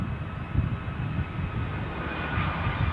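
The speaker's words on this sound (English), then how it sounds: "That'll be our incoming New York flight." Aircraft engine noise from an incoming flight from New York arriving at Edinburgh Airport, a faint, steady distant rumble and whine that holds throughout.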